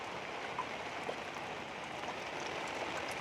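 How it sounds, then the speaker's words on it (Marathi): Steady, dense rainfall pours down continuously, a broad hissing wash with scattered drops pattering on surfaces, no voices. "आता पाऊस आलाय भरपूरच पाऊस आलाय"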